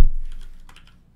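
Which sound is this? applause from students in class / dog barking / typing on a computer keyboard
typing on a computer keyboard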